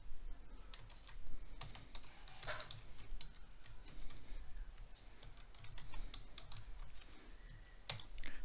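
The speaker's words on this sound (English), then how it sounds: "I'll write pip3 install OpenOPC Python 3" Someone types a pip3 install command on a computer keyboard, an irregular stream of light key clicks with short pauses, close and quiet, no voice.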